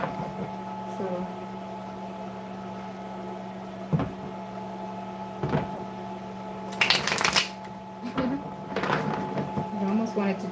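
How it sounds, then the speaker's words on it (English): Tarot cards get a hard shuffle in bursts of riffling and slapping over a steady background hum, with a sharp flurry near the middle. "this hard shuffle is not necessary"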